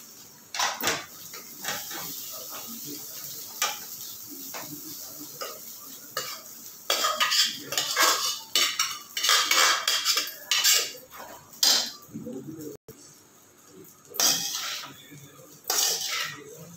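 A spoon stirs and scrapes cooked rice around a hot pan for egg fried rice, with irregular bursts of clattering metal strokes and light sizzling in between, close and fairly loud.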